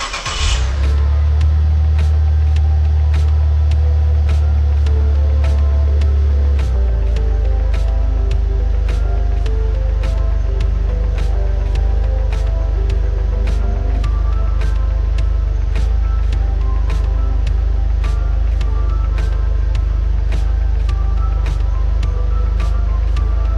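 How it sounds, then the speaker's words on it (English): A Saab 9-3 TurboX idles on a lift with its drivetrain engaged and wheels spinning, a steady low engine drone joined by a regular ticking or clicking repeating about once a second throughout, with a brief rev or shift shortly after the start. "I'm going to go ahead and turn the car on and run the drivetrain"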